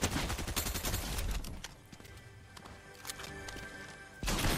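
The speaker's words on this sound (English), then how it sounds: "Is he shooting through the window, bro?" Rapid bursts of gunfire from the video game Fortnite crackle loudly and fill most of the moment, with a quieter stretch in the middle before a final loud burst.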